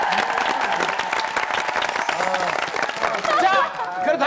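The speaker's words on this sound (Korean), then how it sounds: "세 분에게 박수 부탁드리겠습니다." A studio audience at a Korean variety show claps and cheers in a dense burst, with a host's voice talking over the applause.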